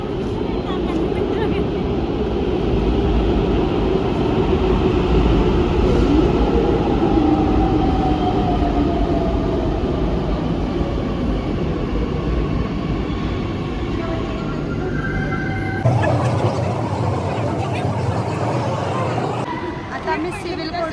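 A metro train pulls into a station, its loud rumble rising and holding over a long stretch before the noise shifts and settles as it stops. Voices and chatter are heard underneath.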